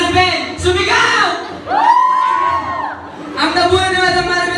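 Teachers at a gift-giving raffle shout and whoop together, loud close voices rising in bursts and falling briefly before the shouting swells again.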